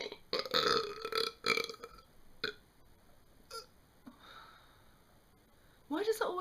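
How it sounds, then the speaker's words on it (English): Several loud, close burps in a row, followed by quiet breathing and another burp at the end. "and then I just burp"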